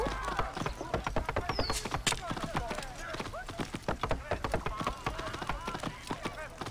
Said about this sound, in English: This horse is definitely not as fast as mine.